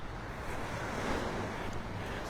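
Surf washing onto the sand at Delnor-Wiggins beach in North Naples, Florida, a steady broadband rush of waves with light wind noise across the mic, continuous and fairly even throughout.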